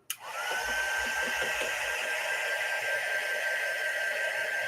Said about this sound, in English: I am going to hit this with the dryer real quick